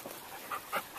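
Dogs holding a down-stay in a training class pant softly with quick, breathy puffs, plus a couple of slightly louder short breaths, faint against a quiet room.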